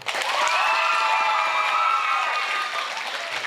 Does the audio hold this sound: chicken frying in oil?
no